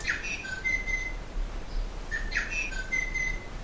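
Tui bird calling in New Zealand: two short bursts of clear whistles and chirps, each under a second and about two seconds apart, close and fairly crisp against a quiet background.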